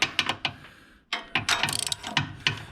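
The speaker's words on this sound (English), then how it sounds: "Break these bolts loose." A hand ratchet clicks in short bursts while breaking loose engine bolts on a 1998 Toyota Camry during rod bearing replacement, close and sharp with a brief pause between sets of strokes.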